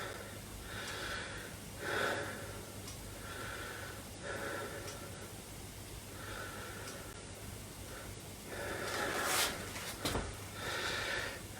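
Slow, calm breathing during a qigong exercise: soft, airy inhales and exhales in an even rhythm about every few seconds, close to the mic, with a faint steady hum underneath and no talking.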